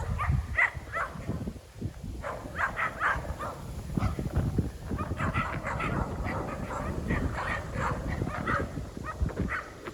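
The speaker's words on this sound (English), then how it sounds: "The house that had 14 dogs." About fourteen dogs at one house bark and yelp in a busy, overlapping chorus, with some whimpering and panting, fairly close and continuous throughout.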